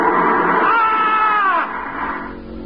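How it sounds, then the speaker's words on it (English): A man's loud, sustained scream on waking rises in pitch, holds for over a second, then breaks off into quieter, shaky sobbing, in an old-time radio drama. "woke up screaming."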